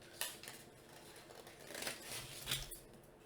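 Scissors cut out a paper piece for a homemade lion dance play set, giving a few scattered crisp snips and slides of the blades. The sound is close but soft, with no one talking.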